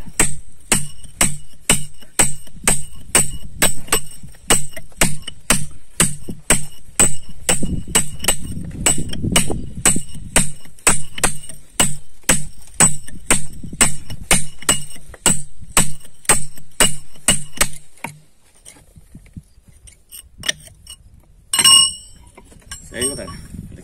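Steady rhythmic metallic chinks of a hammer and chisel cutting stone at a quarry in Pombos, Pernambuco, many sharp strikes in a regular beat, close and loud, then pausing before a last few taps.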